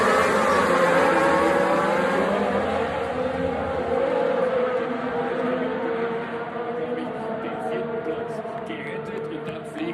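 Formula 1 race cars roar at the race start at Spa, a loud, sustained blend of high-revving engines that stays dense throughout and eases slightly toward the end, with commentary voices faintly underneath.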